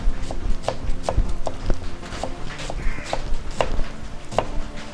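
A knife chops ingredients finely on a board for stuffed crabs, giving a quick irregular run of sharp, close taps with no talk.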